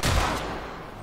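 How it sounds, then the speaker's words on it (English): A point-blank shotgun blast in a video game, one loud close boom that decays quickly into a fading rumble. "Point blank shotgun blast, no kill."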